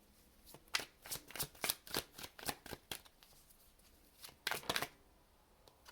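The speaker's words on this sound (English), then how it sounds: "One more good shuffle." Tarot cards being shuffled close up in a rapid run of crisp riffling bursts, then a short pause before one last quick flurry.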